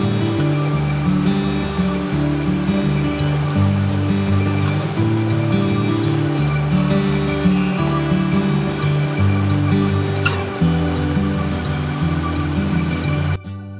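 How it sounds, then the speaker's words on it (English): A gushing river stream on the Campuhan Ridge Walk in Bali rushes in a steady, loud, continuous wash for the whole stretch, with no voices. "the sounds of the gushing river and the chirping of birds was totally refreshing"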